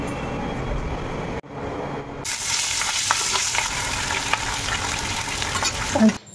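Leftover dal drying out and frying in raw mustard oil with garlic and Bombay chilies, giving a steady, close, dense sizzle that runs almost unbroken, with a short quiet gap early on and one brief clatter near the end.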